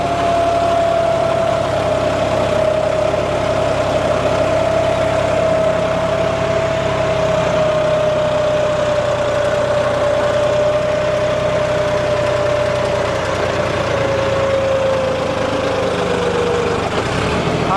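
Four-wheel-drive tractor engine running steadily at idle-like speed, a loud continuous low rumble with a sustained droning whine that holds nearly constant, heard close and alone.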